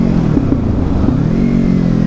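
A Kawasaki Z300 motorcycle with an Ixil-type aftermarket silencer with its baffle removed, its engine running close and loud with a low, throbbing exhaust note and a couple of brief blips of revving.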